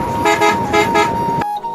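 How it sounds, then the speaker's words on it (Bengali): A bus horn honks loudly and close on a highway, sounding in several rapid, pulsing toots before cutting off abruptly. "হর্ন শুনে থাকেন"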